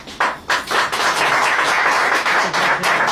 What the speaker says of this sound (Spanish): Fuerte el aplauso, se lo merece allí.